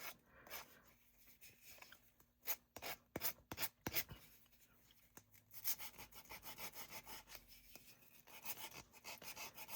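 A thrifted snowman item being distressed by hand gives irregular bursts of scraping and rasping, short quick strokes clustered together then longer rubbing passes, close and fairly quiet, with no talking.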